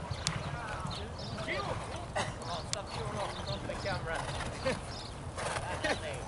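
Racehorses on a track, including a two-year-old filly preparing for her first start, with rapid, fairly faint hoof clip-clop running continuously under a noisy outdoor background.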